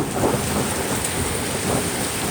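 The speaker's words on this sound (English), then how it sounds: "Wow, it's a pretty good storm right here." Heavy rain pours steadily in a severe thunderstorm, a dense, loud wash of drops on surfaces with low rumbling underneath, continuous and close throughout.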